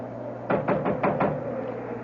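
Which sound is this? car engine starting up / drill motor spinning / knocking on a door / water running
knocking on a door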